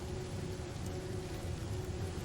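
Steady rain hisses evenly in the fantasy role-playing game Divinity: Original Sin, a continuous broadband wash with a low rumble beneath and no distinct drops or voices.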